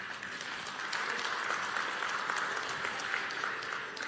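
Steady audience applause at a church sermon, a dense, even wash of clapping that holds at moderate volume from start to finish.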